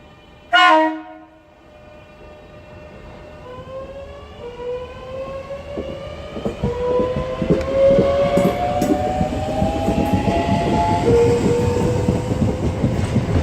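Southeastern electric train 465238 departing Charlton station, opening with a short loud horn blast, then rising motor whine and rumbling wheels building steadily as it pulls away close by.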